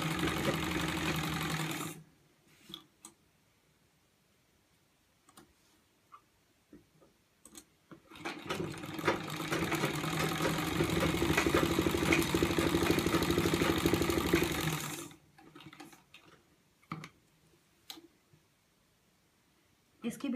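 Sewing machine stitching along the cut edges of a mirror-work kurti neckline, a steady whirring run of about six seconds between shorter bursts, with talk before and after.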